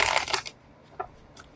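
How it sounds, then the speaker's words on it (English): Tarot cards riffled and shuffled by hand, a dense papery burst for about half a second, then two short, softer card flicks, close and without talk. "Cards shuffled up here"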